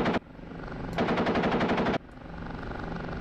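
Machine gun fire from an OH-58D Kiowa helicopter in a DCS combat flight simulator, a rapid rattling burst of about one second over a steady rotor and engine drone.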